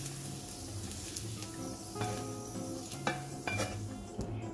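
Bacon sizzling in a frying pan while the pieces are lifted out, a steady close crackle broken by a few sharp utensil clinks against the pan, with no talk.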